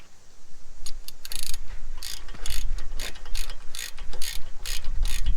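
A ratchet tightens the front brake caliper alignment screw on a 2016 Chevrolet Cruze, giving rapid bursts of metallic clicking in short repeated strokes, close and clear over a low background rumble.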